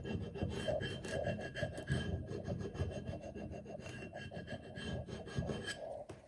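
Permanent adhesive vinyl label being scraped firmly onto a jar, a steady close rasping and rubbing sound in quick repeated strokes, fairly quiet, with no talking.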